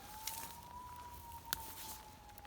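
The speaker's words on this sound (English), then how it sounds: "Here comes the ambulance." An ambulance siren passes on a rainy day, heard as a steady, sustained tone that bends slightly up and then down, with a brief sharp click partway through.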